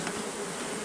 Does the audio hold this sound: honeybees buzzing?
yes